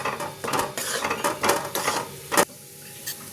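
Dried date powder is roasted with flour in a pan for gum laddus. A spoon scrapes and stirs in uneven bursts, with a brief sharp clatter near the end and quieter gaps between.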